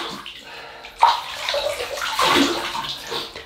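Tap water runs and splashes into a basin as a face is rinsed before a shave, a loud gush rising after a sudden onset and continuing with gurgles, no voices.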